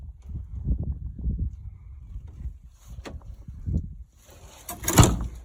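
An early-1970s Kenworth K100 cab door is worked by hand, with low clunks and rattling handling noises followed by a sharper metallic bang near the end, close by.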